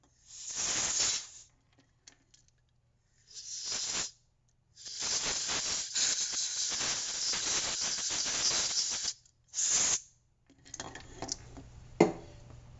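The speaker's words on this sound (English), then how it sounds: "it's very good to have duster gas for this, so that you can go from here and blow all this stuff out" Compressed duster gas blasts out debris from a BNVD-1431 night vision device in several loud hissing bursts of varying length, separated by short silences, close to the microphone.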